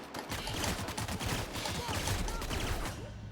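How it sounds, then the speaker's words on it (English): Rapid, dense gunfire from a firefight in the video game The Outer Worlds, a steady clatter of overlapping shots that fills the whole stretch at moderate loudness. "someone else is shooting me"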